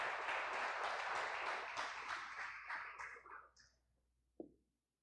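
Church congregation applauding together, a dense sustained clapping that gradually thins out and fades, ending with a single short knock near the end.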